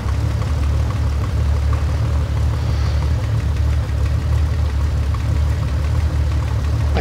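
Bell 407 helicopter engine in Microsoft Flight Simulator 2020, a loud, steady low droning hum that runs unbroken for the whole stretch with no talking.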